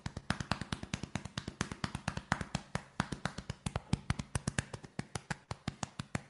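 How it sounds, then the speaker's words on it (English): Hands tapping on a person's chest in a fast, steady body-percussion pattern, dozens of dull, resonant thumps in quick even rhythm, close and fairly loud with no speech. "the sound of your chest"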